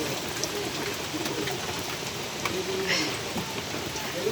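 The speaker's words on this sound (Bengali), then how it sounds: "প্রচুর বৃষ্টি" Heavy rain falls steadily as a dense, even hiss with faint scattered drips, close and continuous throughout, with no clear voices.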